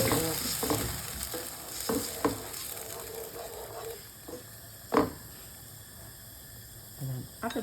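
Chopped tomatoes frying in a pan with a steady soft sizzle, broken by occasional scraping stirs and clinks close by.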